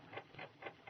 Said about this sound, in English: The ticking sound you hear is the vibration of the clockwork.